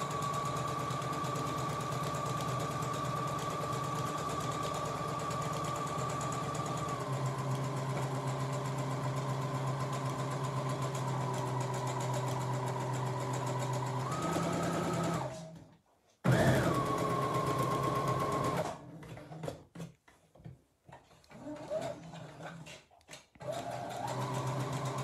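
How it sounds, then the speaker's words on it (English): Sewing machine stitching fabric for a peg bag in a long continuous whir, then shifting speed and stopping, with short bursts of stitching and pauses toward the end. "So I'm just sewing on that line."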